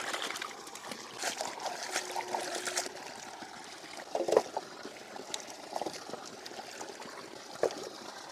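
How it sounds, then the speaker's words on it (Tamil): Chicken leg pieces are washed in water, with soft trickling and splashing plus light handling noises, fairly quiet and close, and a few sharper splashes midway. "சிக்கன் லெக் பீஸ் நல்லா கழுவி எடுத்துக்கலாம்."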